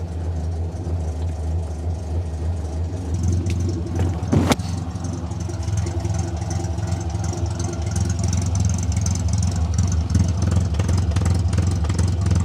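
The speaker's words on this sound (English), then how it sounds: "Yeah, you can hear the misfire." A 1968 Morris engine idles with a misfire, running off choke, producing a steady low mechanical rumble with uneven beats and one sharp click partway through.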